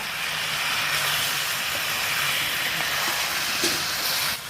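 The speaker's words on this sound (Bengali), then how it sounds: "এবার আমি মাংসটা ভালো করে কষিয়ে নেব" Desi chicken pieces sautéing in a pan for a red chicken curry, a constant close, dense hiss of sizzling oil that holds steady throughout, with a faint clink near the end and no talking.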